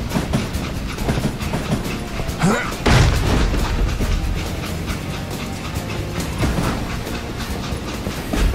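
A train runs on rails in the Western shooter Call of Juarez: Gunslinger, a steady loud rumble and clatter with a heavy boom near the middle, continuous throughout.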